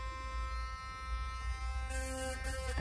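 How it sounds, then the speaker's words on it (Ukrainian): A new electric toothbrush, bought on Amazon, buzzes in a steady close-up drone with a strong harmonic whine, its pitch shifting slightly partway through as it keeps running alone. "Вперше в моєму житті я буду користуватися електричною зубною щіткою."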